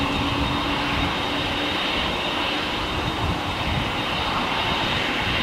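A Lufthansa airliner bound for Frankfurt roars steadily on departure from LAX, a loud, broad jet-engine rumble with a faint whine that holds without letup and no voices.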